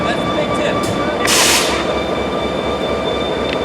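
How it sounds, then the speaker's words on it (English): A B&O GP30 diesel locomotive idles at a station platform, its engine giving a steady continuous drone with a faint tonal hum, and a brief hiss of air rises about midway through. "Always go for the running locomotive"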